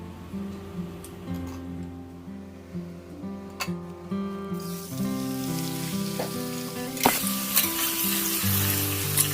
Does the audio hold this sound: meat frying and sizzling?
yes